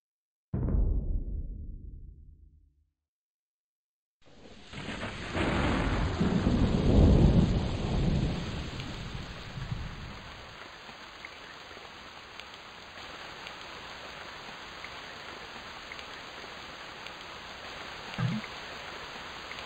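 Steady rain with a loud rolling thunderclap in the Age of Empires II custom campaign Ulio, a deep rumble that fades into continuous hissing rainfall, with a faint later thump.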